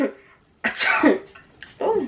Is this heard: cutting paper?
no